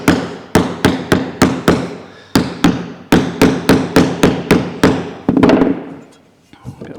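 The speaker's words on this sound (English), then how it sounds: "So we're working the middle of the sheet, and already we're getting some curve in it both ways. Don't have to hit it hard because we don't want dents in our panel." A sheet-metal panel being hammered into a curve in steady, fairly light blows, roughly a dozen sharp ringing strikes in uneven groups, loud and close, ending in a scraping rattle.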